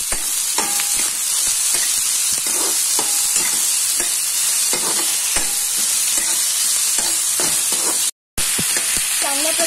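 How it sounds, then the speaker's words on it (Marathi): Potatoes and peanuts stir-fried in a pan for kande pohe: a loud, constant sizzle with repeated sharp scrapes and clinks of a spatula stirring, and no voices. "परतून घेऊया।"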